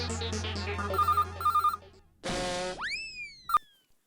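A telephone rings in two short, repeated bursts over background music in a comedy sitcom scene, followed by a springy cartoon boing effect and a brief sharp chime.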